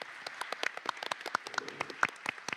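A small audience at a round-table event claps quietly in a thin, sparse patter of distinct, uneven hand claps.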